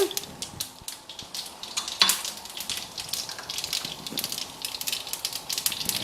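Mustard seeds and cumin sizzle in hot oil in a pan, crackling and popping in quick, dense bursts up close, with one louder clatter partway through.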